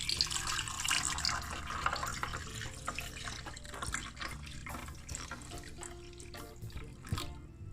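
Pineapple ginger turmeric drink splashes into a glass over two ice cubes, giving a steady close trickle and bubbling pour with soft drips and faint clinks throughout.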